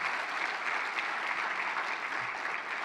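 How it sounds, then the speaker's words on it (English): A plenary audience at a global surgery conference applauds in a steady, dense wash of clapping that holds an even level throughout, with no voices on top. "A round of applause for Salome."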